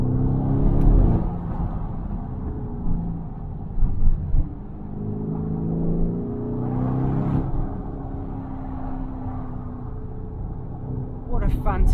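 A Lamborghini Urus drives along a cliffside mountain road, with a steady engine rumble and occasional revving swells heard from inside the cabin. Someone talks over the engine noise throughout.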